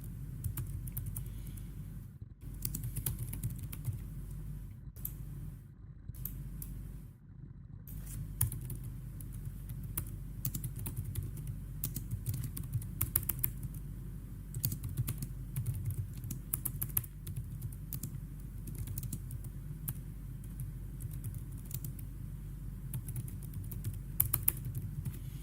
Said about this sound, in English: I'll be typing right now that price target that I'm giving out to you guys